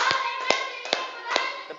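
Hands clapping in a group clapping drill, five or so crisp single claps spaced about half a second apart over a steady background hum, close and distinct.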